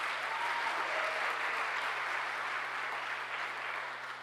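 An audience at a Martin Luther King awards ceremony applauds award recipients with sustained, even clapping from a large crowd, moderately loud and steady throughout.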